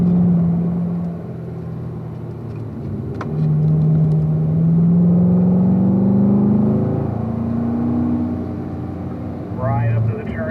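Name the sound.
race car accelerating out of a turn on a track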